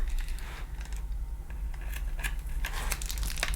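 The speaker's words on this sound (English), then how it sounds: "Just have to use some scissors," Scissors cut open the plastic bag holding the screws for an upright bagged pet vacuum. Quick crisp snips mix with plastic crinkling, close up and continuous.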